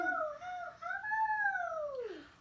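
A person imitates a dog howling at the moon in one long, rising and falling vocal howl, close and clear, with no other sounds.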